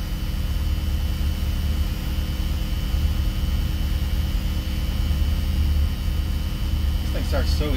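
An MC5 locomotive engine runs steadily after startup, a loud continuous low rumble with broadband mechanical noise that holds constant throughout, with a few brief higher clanks near the end.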